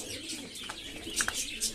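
Fancy pigeons kept in cages coo softly, with a few low murmuring calls and brief chirps over quiet room noise, and no one speaks.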